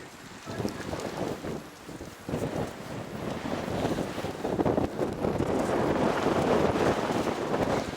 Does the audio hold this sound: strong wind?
yes